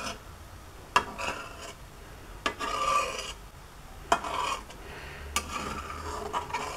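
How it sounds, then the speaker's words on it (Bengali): Condensed milk being slowly stirred in a pan to keep it from sticking, with soft repeated scraping strokes of a utensil across the pan bottom and occasional sharper clicks, fairly quiet. "আস্তে আস্তে করে হালকাভাবে নেড়ে দিতে হবে যেন তলে লেগে না যায়।"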